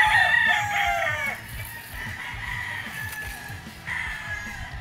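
A Kelso gamefowl rooster crows once at the start, close and loud, followed by softer clucking and other fowl calling in the background at a gamefarm.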